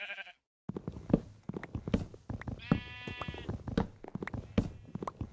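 Sheep bleat in a video game, a series of wavering calls that recur among other game sounds and clicks, close and fairly loud.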